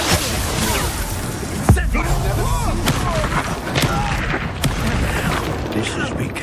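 Confringo blasting spells from Hogwarts Legacy go off in several sharp bursts and booms amid combat clutter, one strong impact standing out, with a voice calling out during the fight.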